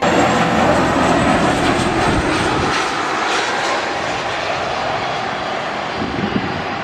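A loud, steady roar of an airliner's jet engines, close by and sustained throughout, gradually easing slightly toward the end.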